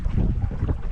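Gusty wind buffeting a microphone on a lake during a cold spring fishing outing, low rumbling rushes rising and falling in waves, steady and close with no voices.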